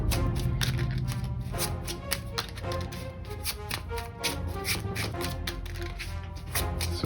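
Rapid, crisp ticking and riffling as Yu-Gi-Oh! cards are shuffled close by, a busy run of small snaps repeated over several seconds.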